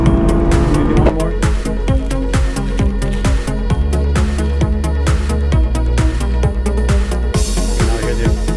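A loud racing car engine roars close by, revving up repeatedly through gear shifts in a rapid, rhythmic pattern.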